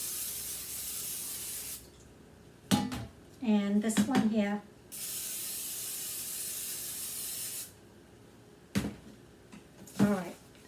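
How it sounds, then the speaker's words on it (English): Two long bursts of cooking spray hiss steadily into loaf pans, several seconds each, close by, with brief speech and clatter between them. "So I'm going to spray the loaf pans. All right. Let me spray this."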